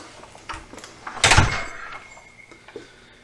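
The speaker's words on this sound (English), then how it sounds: "Garage entry door." A garage entry door on a Dodge D100 truck project shop opens or closes once with a loud mid-clip thud and rattle, framed by a few faint knocks and bumps before and after.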